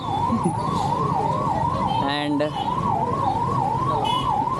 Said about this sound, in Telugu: అంబులెన్స్ సర్వీస్ అయితే చాలా అంటే చాలా బాగుంది, అందరు సైడ్ ఇస్తారు